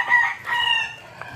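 A rooster crows nearby, a short, clear call rising and falling in two bursts, then fading, with little else around it on a rural farm.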